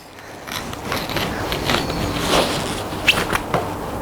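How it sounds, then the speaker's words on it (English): A garden fork works through loose soil in a November garden to free sweet potatoes, giving a continuous gritty scraping and crumbling noise with a couple of small clicks, close and fairly loud. "it's recommended to loosen up the soil with a fork"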